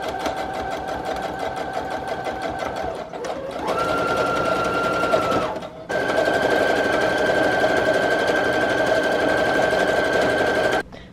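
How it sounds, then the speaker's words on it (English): Sewing machine running in long continuous bursts as it stitches fabric pieces onto a box-made patchwork journal, with a brief pause and a pitch change midway, loud and close with no talk. "So now I'm just going to do a series of very random sewing, and I like to go around almost every piece of fabric."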